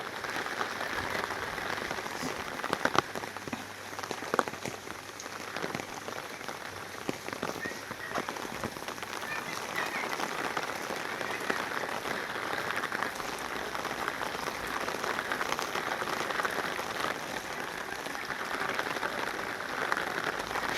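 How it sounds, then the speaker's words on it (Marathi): Heavy monsoon rain in the Konkan pours steadily on surfaces, a dense continuous patter with occasional louder drops, no voices. "बघा आज काय पाऊस होतो"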